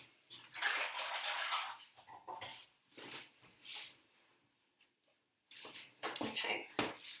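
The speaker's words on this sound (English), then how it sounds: "Now I'm going to wash my hands because that's gross." Tap water runs and splashes at a kitchen sink while hands are washed, in uneven loud gushes broken by quiet gaps, with a short pause before the flow returns.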